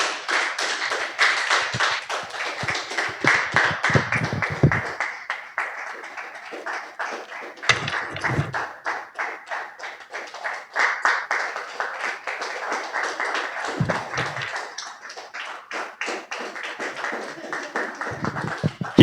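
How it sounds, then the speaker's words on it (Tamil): A church congregation at a Thursday prayer meeting claps hands loudly and continuously in dense, rapid bursts for nearly twenty seconds, with a few brief pauses and some voices mixed in. "எல்லாம் ஜோர கை தட்டுங்க எல்லாரும்."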